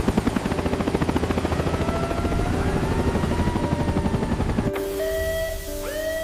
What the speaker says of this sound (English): Look! A rescue helicopter!